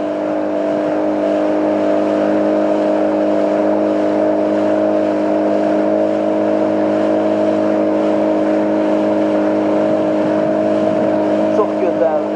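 A boat motor drones on a boat ride in Yevlakh, a steady, even hum with strong tonal layers that holds unchanged from start to finish.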